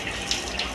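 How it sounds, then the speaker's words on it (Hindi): Rainwater flowing in from the lane and into a house, a steady close rush of running water that stays loud and continuous, with no voices over it. "देखिए कितना पानी हो गया है, इस सब घर में पानी आता है देखिए।"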